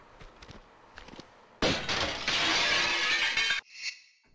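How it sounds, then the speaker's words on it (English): Window glass shatters with a loud crash and tinkling debris after gunfire in the video game Tomb Raider 2, followed by a short metallic ring, preceded by soft game sounds. "I love shooting windows in Tomb Raider 2."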